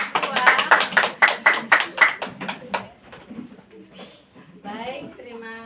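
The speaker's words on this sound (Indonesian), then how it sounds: "tepuk tangan untuk kelompok 2." Brief burst of group hand clapping after a student group's classroom presentation in Indonesia, a dozen quick claps over about three seconds, fading into scattered voices and chatter.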